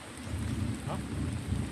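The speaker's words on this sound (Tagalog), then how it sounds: "Muna kami kasi umuulan na talaga. Papalakas na, papalakas." Steady rain falls in a broad, even hiss with low rumbling underneath, heavy and continuous with no voices.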